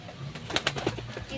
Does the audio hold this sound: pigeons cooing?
yes